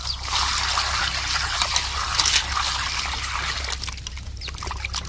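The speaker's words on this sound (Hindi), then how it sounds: "तो लौकी हम कढ़ाई में डाल करके धोएंगे।" Water pours and splashes steadily over a bottle gourd in a wok, with trickling and dribbling as it is rinsed, close and fairly loud.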